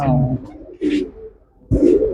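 Pigeons kept for sale at a breeder's loft coo in brief low bursts, close by, mixed with someone talking.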